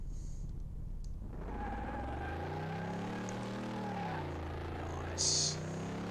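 Stock V8 car engine in Car Mechanic Simulator 2018, a low steady rumble that swells and rises in pitch as it revs, heard up close with a short high blip near the end; no talking.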